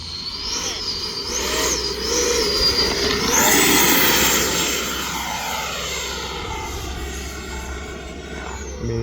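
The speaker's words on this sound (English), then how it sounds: "you can see just how aggressive you can fly the airplane with no bad habits" E-flite F-16 80mm electric ducted fan RC jet flies past outdoors, its high-pitched fan whine rising and falling in pitch as it swoops and banks, growing to a loud pass before trailing off.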